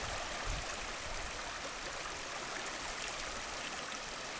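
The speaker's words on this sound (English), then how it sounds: "So there's some waterfalls there." Mountain waterfalls rushing in a constant broadband roar, close and steady throughout with no voices.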